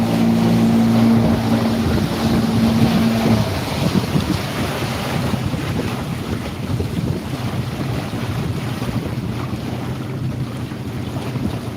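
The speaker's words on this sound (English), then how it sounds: "Wind's just changed to northeasterly." Wind blows across open ocean around a houseboat, a continuous buffeting roar that hits the microphone hard, with a low engine-like hum at first that fades after a few seconds.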